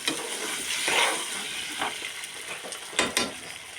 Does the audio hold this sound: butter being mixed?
yes